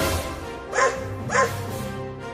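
A dog gives two sharp barks about half a second apart, fairly close, over a low background hum.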